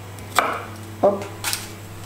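Knife chopping vegetables finely on a cutting board for pasta bolognese, three separate thuds spaced about half a second apart, close and clear with no talking.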